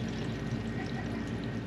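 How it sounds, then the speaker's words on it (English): Water drains steadily from a mini portable washing machine, a continuous close pouring and trickling stream with no speech. "you can see the water coming out right there"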